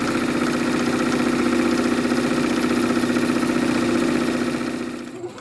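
A sewing machine runs steadily, stitching fabric pieces for a face mask with a continuous close mechanical whir and rhythmic chatter that winds down at the end.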